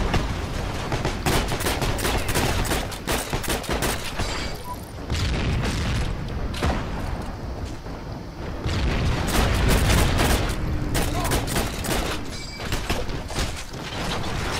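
Heroes and Generals battle gunfire, near-constant volleys of shots and booms with occasional heavier blasts, loud and busy throughout.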